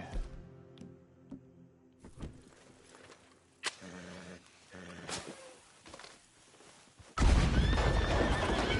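A horse in the video game Red Dead Redemption 2 whinnies loudly near the start, followed by scattered hoof clops and thumps, then a louder burst of galloping noise at the end.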